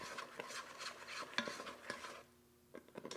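A spoon stirs a pot of boiling banana jam, scraping and sloshing in steady rhythmic strokes with soft bubbling underneath, pausing briefly before the stirring resumes.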